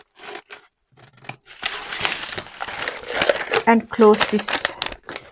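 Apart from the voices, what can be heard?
cutting along a marked line for quilt blocks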